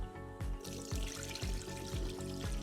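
Rice being rinsed in a big bowl of water, soft rhythmic swishing and sloshing in regular strokes about every half second, close and faint with no talk.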